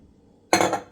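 Water is poured into a pot holding a homemade hair oil mixture of onion and cloves, a sudden close splashing gush starting midway after near silence.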